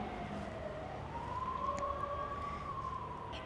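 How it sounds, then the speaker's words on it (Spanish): An ambulance siren wails in a slow rising and falling tone, distant and faint at first, then swelling a little as it passes outside, heard alone with no talk. "Esperen un momento que pase la ambulancia."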